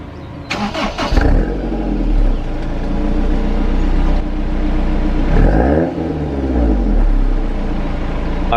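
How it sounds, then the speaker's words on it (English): A Honda S2000 with a UK aftermarket exhaust cold-starts up close: a brief starter whine catches into a loud idle. The idle rumbles on steadily, then a single rev swells and drops back. "But let's go ahead and get a cold start up and let's head out."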